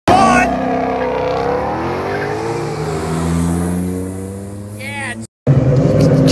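A car does a burnout at a downtown Clearfield street event, its engine screaming steadily at the rev limiter with wavering pitch and tire squeal, very loud and close, briefly cutting out before roaring again as voices shout over it.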